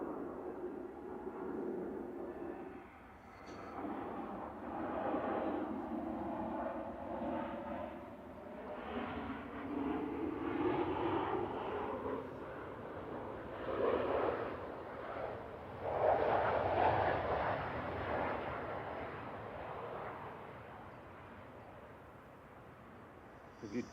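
A Ryanair airliner lands on runway 05 left at Manchester Airport, heard as a distant, low rumbling jet roar that swells and fades over many seconds, with faint voices mixed in.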